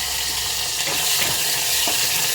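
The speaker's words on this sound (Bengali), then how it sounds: "তেল গরম হয়ে গেছে সিটি মাছটা দিয়ে দিলাম" Dried fish frying in hot oil, a loud, dense, continuous sizzle with a few soft stirring scrapes close by.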